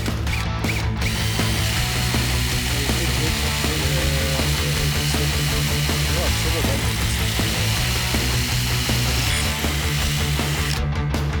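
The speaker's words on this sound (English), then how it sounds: "We're going to pilot drill it" A power drill pilot-drills a 4 mm hole through metal for a drift trike build, a continuous close whine that shifts pitch in steps as the bit bites, with muffled voices in the background.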